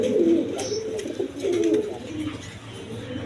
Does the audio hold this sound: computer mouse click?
no